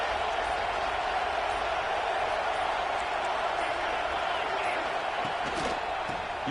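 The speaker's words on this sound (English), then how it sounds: "And here comes the noise. This crowd is trying to inspire this defense to make a big red zone stop." Stadium crowd noise from a College Football 26 championship game, a dense, steady roar of many voices filling the whole stretch at a moderate distance, with no distinct speech over it.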